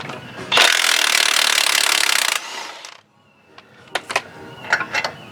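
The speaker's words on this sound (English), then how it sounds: "Rip them off with the impact now." An impact wrench breaks loose bolts on a Dodge Ram 3500 during ball joint work: a loud, sustained buzzing burst of about two seconds, then quiet with a few sharp metallic clanks and knocks.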